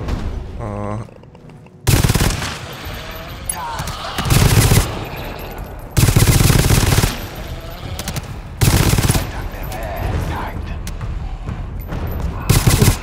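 Heavy bursts of automatic gunfire in the co-op shooter GTFO come in loud, repeated volleys separated by short lulls, along with booming impacts, after a faint tone at the start.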